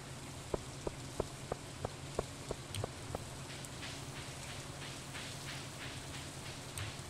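Rain patters steadily in the Stardew Valley video game, a soft even hiss of falling drops with a run of sharp, regularly spaced ticks near the start and scattered light taps later.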